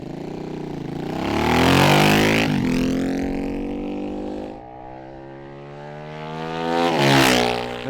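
A Brough Superior motorcycle, number 28 of a limited 300, being ridden, its engine revving up through the gears in rising and falling pulls, loud and close, with no talk.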